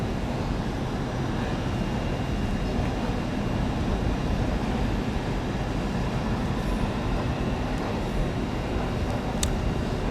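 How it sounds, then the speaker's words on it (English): A light locomotive rolls into London Paddington on the Great Western Main Line, a continuous broad rumble of rail noise with steady loudness throughout and faint high squeals near the end. "you should see a light locomotive move as well coming into London Paddington"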